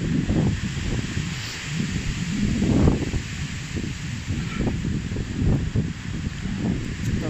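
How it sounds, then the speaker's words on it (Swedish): Wind blows steadily outdoors, a continuous rushing roar buffeting the microphone with gusting swells and rustling, heard on its own for several seconds. "Det blåser rätt bra idag ändå."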